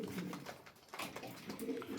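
Soft cooing from several pigeons close by, with low murmuring voices in the background.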